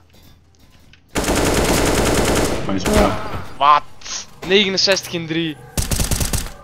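Rapid automatic gunfire rattles in loud sustained bursts during online video game play, broken by short gaps, with excited voices talking over it.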